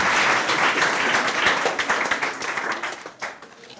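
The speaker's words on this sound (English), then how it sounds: "You clap for yourself for the answer." Students at a school consultation session clap together, a lively burst of many hands that gradually tapers into scattered, uneven claps.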